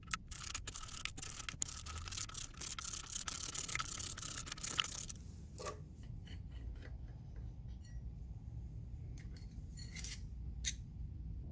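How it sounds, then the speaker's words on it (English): Ten-millimetre clutch spring bolts on a Honda XL600R being loosened make a close run of sharp, rapid metallic clicks, then fainter scattered ticks after a brief pause. "Loosen the 10mm clutch spring bolts a little bit at a time,"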